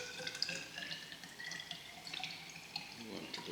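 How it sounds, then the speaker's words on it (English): Distilled water poured into a container during a lab measurement of gas molar volume, with a steady splashing trickle that holds throughout at a moderate, fairly quiet level. "We're going to add our water."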